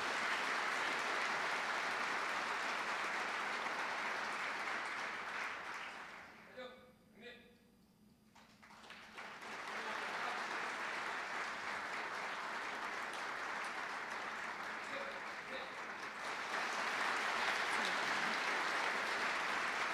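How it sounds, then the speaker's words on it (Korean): An audience at a company anniversary award ceremony applauds an honoree, with dense steady clapping that dips briefly to near quiet before swelling back up and continuing to the end. "많은 격려 박수 부탁드립니다"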